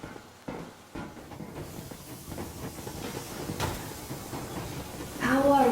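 Steam locomotive Yermak from Metro Exodus rolls under way with a steady, loud hiss and rumble of steam and rail noise, rising a little louder toward the end, where a voice briefly cuts in.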